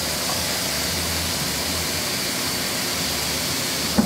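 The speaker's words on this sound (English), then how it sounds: "let me turn the water on." Hot tap water running into a container for soaking doll clothes with OxiClean, a steady hissing gush that stays even throughout and ends with a small knock.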